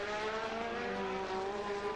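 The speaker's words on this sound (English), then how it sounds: "Senna comes down to the chicane behind the Ferrari of Stefan Johansson" Formula One race cars at the Monaco Grand Prix, a sustained high-pitched engine whine with shifting tones, loud and continuous through the whole moment with no voices.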